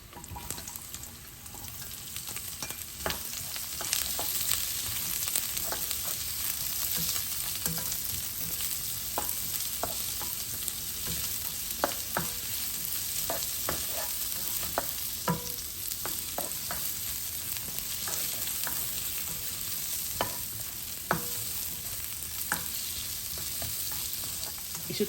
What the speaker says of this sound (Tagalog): Kapag mainit na, pwede natin i-saute ang garlic. Sunod natin ang onion.